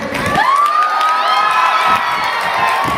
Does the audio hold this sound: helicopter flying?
no